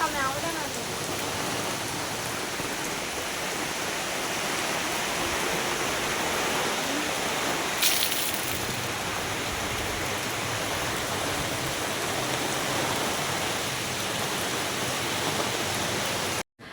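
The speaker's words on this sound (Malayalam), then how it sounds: "നല്ല കാറ്റും മഴയും" Heavy rain pours steadily with strong wind over a garden of leafy greens, a dense continuous hiss that stays loud throughout before cutting off abruptly at the end.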